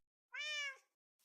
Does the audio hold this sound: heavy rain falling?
no